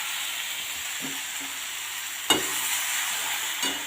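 Vegetables frying in oil rendered from fish, a soft continuous sizzle with a few stirring scrapes and one sharper knock of the spatula against the pan.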